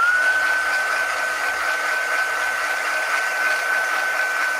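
A heat tool or hair-dryer-style blower runs steadily on a paper craft project, a loud continuous airy whoosh with a constant high whine, close by and uninterrupted.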